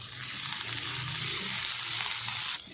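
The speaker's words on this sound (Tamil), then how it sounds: "கொத்தமல்லி தலையும் கருவேப்பிலையும் பார்த்திங்கன்னா நல்லா வதங்கிடுச்சு" Curry leaves and coriander sizzle loudly in a hot pan, a constant close crackling hiss with faint stirring sounds.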